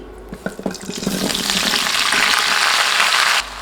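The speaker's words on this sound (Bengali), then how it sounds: "এরপর বড়ইগুলো দিয়ে দিচ্ছি" Jujubes drop into hot oil seasoned with five-spice: a few clattering knocks as they land, then a loud, steady, hissing sizzle that builds and holds before cutting off abruptly.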